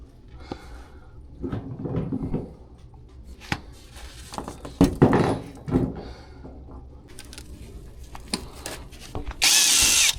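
An impact driver bores into a clogged drain pipe in a company factory cafeteria, sounding in several short, loud whirring bursts separated by pauses and clattering handling noise, with a harsh hiss near the end.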